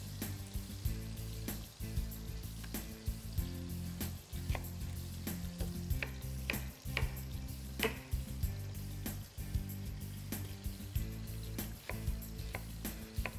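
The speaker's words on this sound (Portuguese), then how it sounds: "Deixa fritar um bocadinho" Chicken and chouriço fry in a pan for a Portuguese chicken-and-rice dish, a soft continuous sizzle with occasional stirring clicks beneath a steady, low tonal backdrop resembling music.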